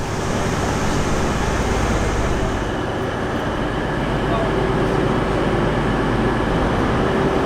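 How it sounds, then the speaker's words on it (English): An HST 125 high-speed train on the Midland Main Line, heard at St Pancras station on an East Midlands farewell charter. A loud, steady rumble and roar of the train runs without a break, filling the whole stretch. "we say farewell to the high-speed train on the Midland Mainline"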